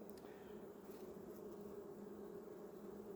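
Honey bees hum steadily at a hive being prepared for winter, a continuous low, soft drone with no breaks.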